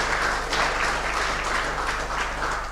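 Audience applause for the vice-minister at a press event, a steady wash of clapping from a seated crowd, moderately loud and unbroken, with a low hum underneath.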